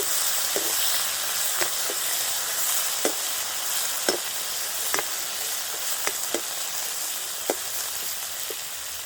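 Onions and tomato frying in a pan, a steady broad sizzle running the whole time with occasional sharper crackles and pops scattered throughout, close and fairly quiet, no talking.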